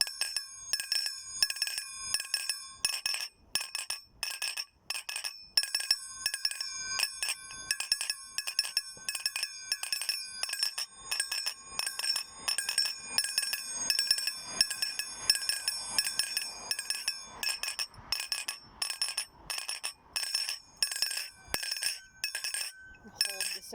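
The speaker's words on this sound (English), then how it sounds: "I'll press them against myself and do like 5s or alternating." Finger cymbals pressed against the player's body give muted, clipped metallic clinks in a quick alternating pattern. Short ringing strikes repeat steadily, close and fairly loud, with a few brighter rings sustaining early on.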